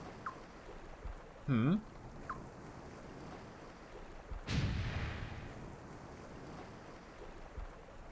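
A single heavy boom from a rune cannon fired from a ship in Suikoden V erupts midway, followed by a rumbling decay, with a brief synthetic chirp earlier over a quiet ambient bed.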